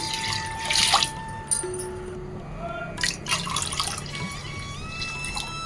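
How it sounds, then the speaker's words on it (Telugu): Two glasses of water splash and trickle into a pot of toor dal in short bursts with a few dripping sounds and faint clinks, close up, with no speech. "దీంతో 2 గ్లాసులు వాటర్ పోద్దాం."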